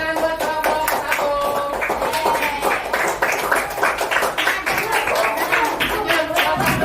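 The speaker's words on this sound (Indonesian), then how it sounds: "tepuk tangan buat kelompok 1" A fifth-grade primary school class claps for a group of students, a dense, steady patter of many hands filling the room, close and continuous, with music or voices faintly underneath.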